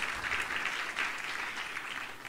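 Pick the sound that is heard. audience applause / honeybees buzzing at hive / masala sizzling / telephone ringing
audience applause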